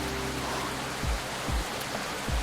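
Steady rain falls in the video game Coffee Talk 2, a soft even hiss with faint low thuds recurring at regular intervals beneath it, no voices present.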